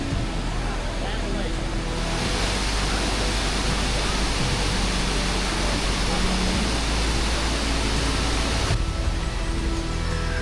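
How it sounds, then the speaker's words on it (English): Waterfall beside the main road near Ella, Sri Lanka, a loud, constant broadband roar of falling water that fills the whole stretch without a break, with a voice talking over it. "And then an incredible waterfall right next to the main road."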